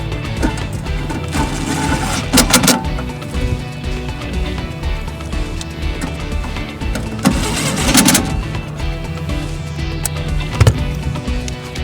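A power screwdriver drives screws into a York furnace combustion blower. There are two loud whirring bursts a few seconds apart and a brief buzz near the end, over clattering handling noise, close by and with no talking.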